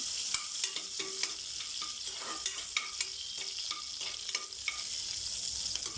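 Cumin seeds and other ingredients sizzle steadily in a hot pan while a spoon scrapes and stirs in repeated short strokes, close and moderately loud, with no talking.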